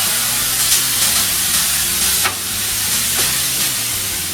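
Water splashed onto a hot iron plate inside a bread oven while baking baguettes, giving a continuous loud steam hiss and sizzle with a few sharper spitting bursts, close and without talk.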